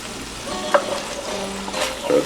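Minced garlic sizzles and crackles loudly in hot olive oil while being stirred in a pan for arroz con pollo, a close, continuous frying hiss with a few scraping stirs.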